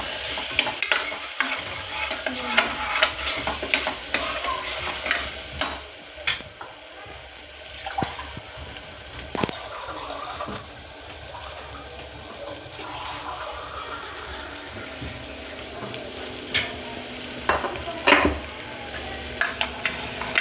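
Red chilli powder, coriander-cumin powder and turmeric sizzle in hot oil while being stirred for a horse gram curry, with soft scraping and a scattering of clinks and knocks over a steady frying hiss.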